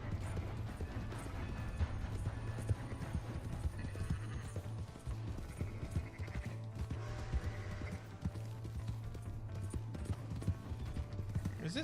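Horse hooves clip-clopping steadily with whinnies in Red Dead Redemption 2, faint and continuous against game ambience and mechanical rattling.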